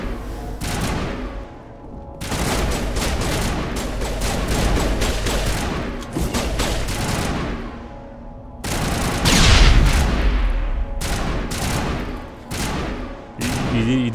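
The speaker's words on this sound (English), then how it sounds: "You need to throw a grenade and press it again to detonate it." Rapid bursts of automatic gunfire and booming blasts, including a grenade explosion, in the Mass Effect video game, loud and close with brief pauses between the volleys.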